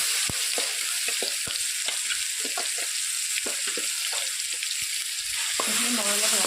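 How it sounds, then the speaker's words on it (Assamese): A paste of tomato, onion and garlic fries in a pan, giving a steady close sizzle broken by frequent spoon taps and scrapes as it is stirred, with a brief voice at the end. "মই অলপ ৰঙচুৱাকৈ ভাজিলোঁ।"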